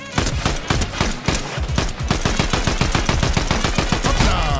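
Rapid automatic gunfire from a Fortnite match, dense bursts of loud shots cracking in quick succession almost nonstop, with no talking over them.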